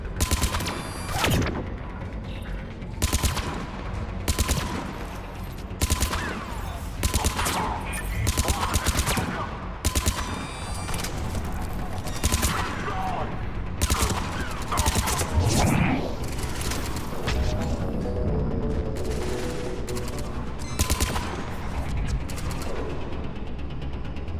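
Gunfire in a firefight in the Doom video game comes in repeated loud bursts and rapid volleys, with mechanical clanks and ratcheting between shots, continuing densely throughout.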